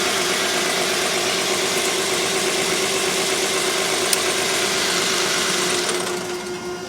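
The diesel engine of a New Holland LX885 skid steer runs steadily after a fuel injection pump rebuild, a loud, even idle with a faint rhythmic knock that eases slightly at the end, no talking.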